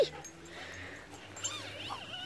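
A dog doing agility jumps whimpers and yips in short high, wavering cries, several close whines clustered toward the end over faint outdoor background.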